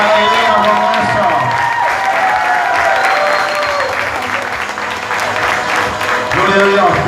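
Loud sustained applause from a church congregation, thick continuous clapping mixed with some cheering and crowd voices, tonal backing sound throughout.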